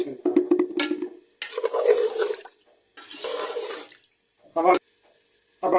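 Water is poured into a cooking pot for chicken pulao, several close splashing, gushing bursts of a second or so each with silent gaps between, ending in a short sharp pour.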